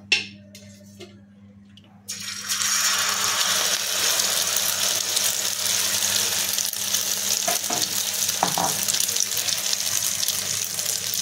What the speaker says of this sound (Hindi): ह्याच्यावरती आपल्याला झाकण ठेवून फ्राय करून घ्यायचं आहे।